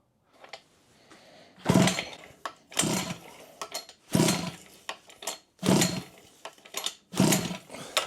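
A 49cc petrol minimoto engine fitted to a Henry Hoover vacuum cleaner is pull-started repeatedly with the choke on, giving five loud, rasping cord pulls roughly a second apart that never catch, plus some quieter rattling in between.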